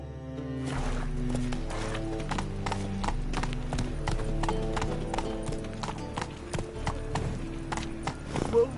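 Roach, the horse in The Witcher 3, clip-clops along at a brisk pace, hooves striking in a steady rhythm close up with faint game ambience behind.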